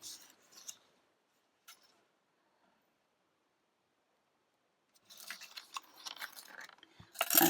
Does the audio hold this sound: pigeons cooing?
no